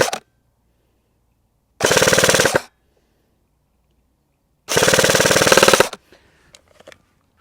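An AATV Arcturus GR16 MOD5 HK416 airsoft replica fires 0.28 g BBs at maximum range outdoors in two loud full-auto bursts, each just under a second long, with quiet gaps and a few faint clicks afterward.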